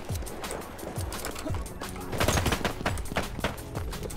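Kolibri pistol gunfire in Battlefield 1, a rapid run of small sharp shots amid a busy multiplayer battle, with a louder cluster of reports midway and constant game noise underneath.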